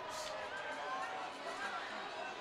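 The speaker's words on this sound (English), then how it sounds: "And the Arizona fans, big crowd here tonight, chant, "Who cares?"" A big crowd of Arizona hockey fans at a home game against ASU roars in a steady, dense wash of voices, a chant blurred into the constant crowd noise throughout.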